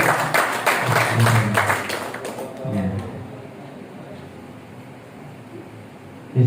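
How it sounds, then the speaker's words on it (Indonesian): Audience applause at an Indonesian seminar: a dense patter of many hands clapping fills the first two seconds, then thins into scattered claps and room murmur before a louder burst at the very end. "Tepuk tangan Bapak Ibu"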